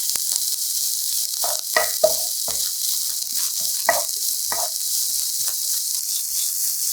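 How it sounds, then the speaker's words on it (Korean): Cabbage stir-frying in hot oil with scallion and garlic, a steady bright sizzle broken by intermittent scraping and stirring strokes, close and continuous. "중간중간 갈색이 돌면 양배추를 넣고 볶아서"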